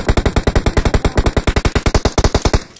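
Rapid automatic gunfire in PUBG, a loud, steady burst of about two dozen evenly spaced shots over nearly three seconds, ending abruptly.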